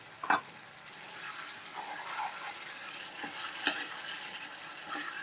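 Chillies fry in oil, sizzling softly in a pan while a utensil scrapes and clinks now and then, with a few sharper knocks standing out.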